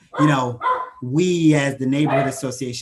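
A dog barks somewhere in the background of a zoning board meeting, its yips sitting under steady, close talk from a speaker throughout.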